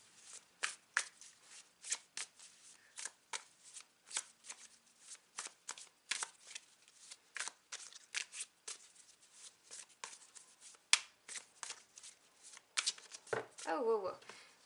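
A tarot deck is shuffled by hand, producing quick irregular bursts of papery riffling and card slaps close up, with a voice briefly heard near the end.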